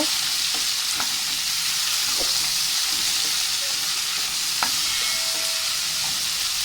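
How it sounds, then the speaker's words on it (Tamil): Onions, tomatoes and curry leaves fry in oil for a quick tomato chutney, giving a constant close hiss and sizzle with occasional soft stirring clicks and no speech. "அந்த எண்ணெயில் நல்லா வேக விடுங்க"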